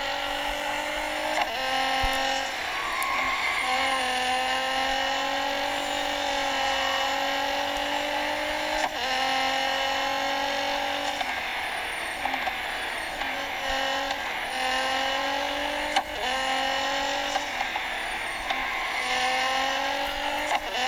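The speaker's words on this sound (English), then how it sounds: "It's a lovely car to have a skid around this thing," A video game racing car engine laps Circuit of the Americas, its steady high-pitched whine rising and falling through gear shifts and corners, loud and continuous throughout with no talk over it.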